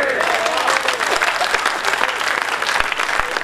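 An audience at a Hindi humorous poetry gathering bursts into loud, close clapping with crowd noise, a dense burst of applause throughout with a couple of sharp low thumps.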